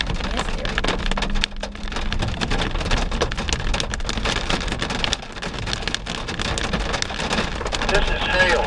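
Hail hammering on a truck during a drive into Ouray, a dense, steady rattle of hard pellets striking the vehicle's body, loud and continuous throughout.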